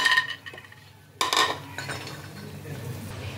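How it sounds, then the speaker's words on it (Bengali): Metal utensils clink and scrape as fried lentil dumplings (bori) are lifted out of hot oil into a bowl. A sharp clatter stands out over a faint steady sizzle. "এবার আমি বড়িগুলোকে তেল থেকে তুলে একটা আলাদা পাত্রে নিয়ে নিচ্ছি।"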